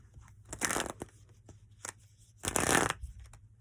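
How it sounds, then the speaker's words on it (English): Tarot cards being shuffled in two brisk riffling bursts, with soft handling rustles between them, close and fairly quiet, with no talking. "I never know until I shuffle them and lay them out"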